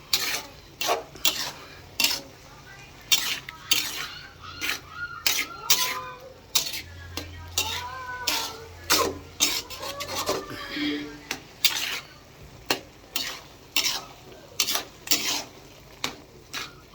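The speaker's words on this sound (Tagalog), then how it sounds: "Hinalo ko sa ginisang kamatis mga kawat." Scrambled eggs with sautéed tomatoes being stirred in a frying pan, a rhythmic run of sharp utensil scrapes and taps over a low sizzle, close up, with a voice speaking in the middle.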